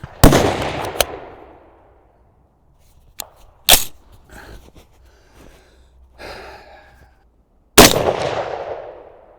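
A suppressed Ruger SFAR rifle fires handloaded rounds at a hunting range in Sweden, five sharp, loud reports spaced irregularly with quiet handling and breathing sounds between them.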